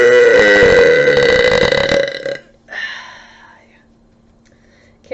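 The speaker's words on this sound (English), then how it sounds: "Can't hide from these burps." A young woman lets out a long, loud, deep burp lasting about two seconds, followed by a softer trailing belch and breathy whispering sounds, all close up.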